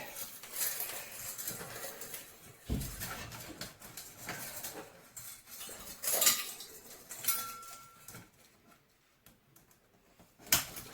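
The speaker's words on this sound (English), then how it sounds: "that's how it clips on" Titanium camping pots from a cookware set clinking and clicking as their clips snap on, a few sharp metallic taps and rattles spread across the stretch with faint background noise and no talk.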